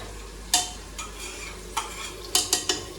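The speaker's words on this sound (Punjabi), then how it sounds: "ਪਹਿਲਾਂ ਪਿਆਜ਼ ਤੇ ਲਸਣ ਨੂੰ ਥੋੜਾ ਭੁੰਨਾਂਗੇ ਚੰਗੀ ਤਰ੍ਹਾਂ" Onion and garlic being roasted and stirred in a pan, with a soft sizzle under sharp, irregular scrapes and clinks of a utensil against the pan, close and moderately loud.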